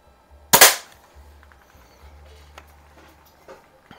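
A Daisy Model 25 BB gun fires a single sharp, close crack, followed by faint scattered handling clicks and low background rumble.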